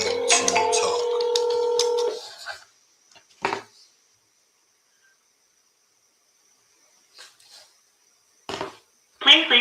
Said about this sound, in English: All right, we're going to dial again.